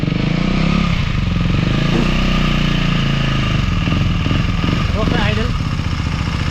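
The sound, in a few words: KTM motorcycle engine idling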